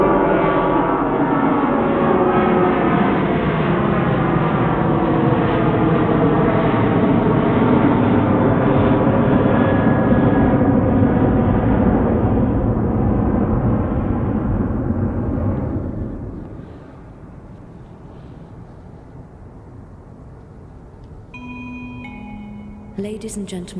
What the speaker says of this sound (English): Good old noisy Ryanair.